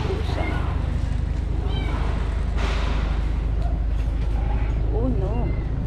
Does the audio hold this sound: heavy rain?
no